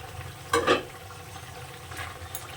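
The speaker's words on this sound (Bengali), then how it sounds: "আমি তরকারিটা হালকা একটু ঘুটা দেবো এইভাবে" A potato and bitter gourd curry in a pan is stirred briefly, one scraping swish over a soft, steady simmer, then quieter sizzling.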